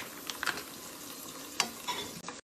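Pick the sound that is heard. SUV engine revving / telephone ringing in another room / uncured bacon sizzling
uncured bacon sizzling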